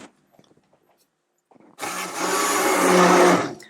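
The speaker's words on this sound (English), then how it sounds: "make sure your stick blender is all the way submerged under the liquid" A stick blender whirs steadily through goat milk soap batter, starting abruptly after a few soft handling taps and running loud and continuous to the end.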